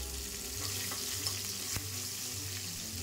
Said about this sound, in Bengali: কাজু কিশমিশ তেলের সাথে ভালো করে নাড়াচাড়া করে